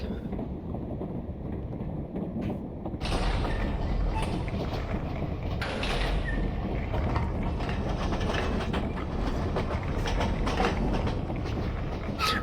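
Train riding along in the video game T2X: Shadows of the Metal Age, a constant loud rumble with rattling clatter that swells in intensity after a few seconds and continues steadily.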